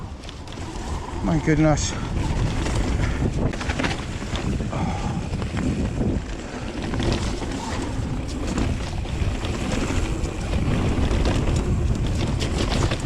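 Strong gusts buffet the microphone on a hillside forest trail at Cwmcarn, a loud continuous roar with surging peaks, while a woman exclaims briefly near the start.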